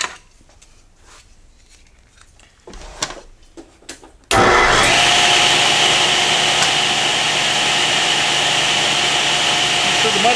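A router on a PantoRoute jig cutting mortise and tenon joints in wood: after a few seconds of quiet handling noises, the motor switches on abruptly and runs loud and steady to the end.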